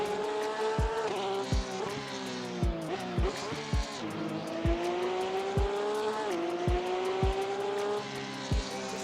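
A race car in the Assetto Corsa video game corners at Spa in second gear, its engine droning and rising and falling in pitch under a long tire squeal, with regular sharp thumps across the kerbs.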